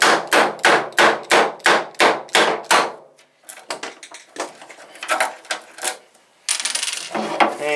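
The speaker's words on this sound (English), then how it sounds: "lightly thread this thing in and pop those blind nuts out" Blind nuts are knocked out of a plywood former on an Easy Stik 60 model airplane: a quick run of about ten sharp, evenly spaced taps, then irregular metallic clinks and rattles, close and with no talk.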